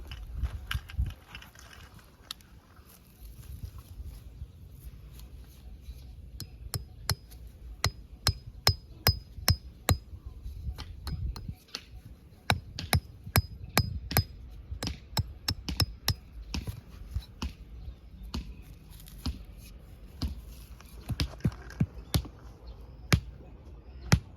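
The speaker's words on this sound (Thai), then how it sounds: "ตอกเป็นสัญลักษณ์ให้กับช่างตั้งกันนะครับ" Hammer blows ring out at an outdoor construction site while stakes are driven to mark pile positions, with sharp metallic strikes in irregular bursts of quick repeated hits over a quiet background.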